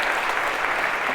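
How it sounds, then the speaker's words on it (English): A lecture-hall audience applauds in a steady, dense patter of clapping, loud and continuous for the whole short moment. "a round of applause for your"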